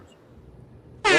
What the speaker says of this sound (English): you can't do the clap without doing the air horns